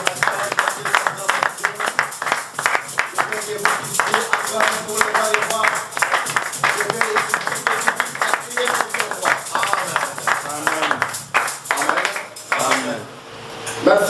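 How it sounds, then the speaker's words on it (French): Church congregation at a worship service clapping and acclaiming together, a dense run of sharp hand claps with voices mixed in throughout, fairly close and steady. "Avec les acclamations."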